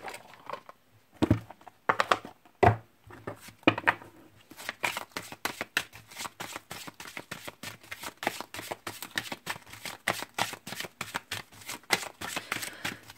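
Oracle cards from Lisa Williams' intuitive soul deck being shuffled, with a few sharp slaps at first, then a rapid, steady run of close, crisp card riffles.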